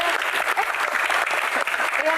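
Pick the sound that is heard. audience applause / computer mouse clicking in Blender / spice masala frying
audience applause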